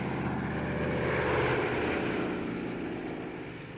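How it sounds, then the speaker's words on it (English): C-47 Skytrain transport planes taxi at full throttle while towing ton-and-a-half gliders, a steady loud propeller engine drone that swells slightly then eases off. "Taxiing at full throttle, the tow planes had to remain on the ground until the ton-and-a-half gliders were airborne"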